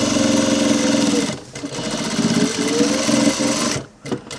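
A sewing machine runs a stitch down the side of a jacket pocket to close it, a loud, steady mechanical whir with two short pauses partway through and near the end.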